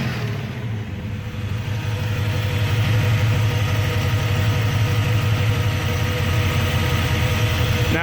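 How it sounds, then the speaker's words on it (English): A car engine fitted with a Holley carburetor, a 289, revs steadily with a loud, constant low rumble that builds slightly after the first second and holds alone without talk. "to give the engine a few revs and clear everything out"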